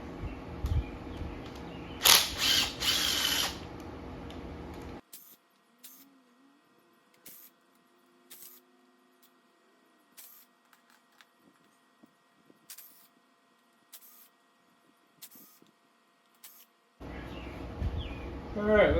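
Quick repeated ratchet clicks in short bursts as the intake manifold comes off a Gen 3 engine, fairly close and crisp, with louder workshop noise and talk before and after a quieter stretch.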